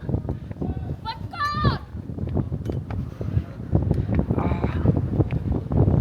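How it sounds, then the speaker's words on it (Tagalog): Strong gusty wind at the high peak of a glass bottom bridge near Sapa buffets the microphone in continuous rough bursts, with people talking throughout. "Ang lakas ng hangin dito"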